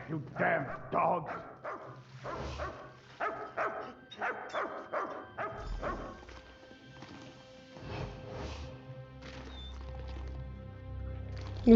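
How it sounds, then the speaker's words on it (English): A dog barks repeatedly in the video game Elder Scrolls Online, the short barks mixed with hoof clip-clops and a horse's whinny, while someone talks over parts of it. "Quiet, you damn dog!"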